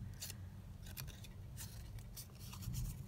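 Scissors snip through coffee-dyed paper pieces in a quiet craft setting, with a few short, crisp cuts spaced across a soft, steady background, no talk.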